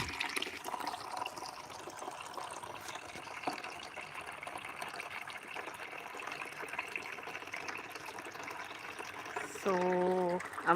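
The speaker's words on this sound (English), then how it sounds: "I'm going to fetch another bucket of water for the cows." Water is poured into a bucket on a farm, fetched for watering cows, a steady trickling and filling sound that continues at a moderate level, with a brief tonal change near the end.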